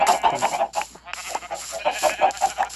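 Chickens clucking in Minecraft, a run of short repeated clucks coming close together with little pause.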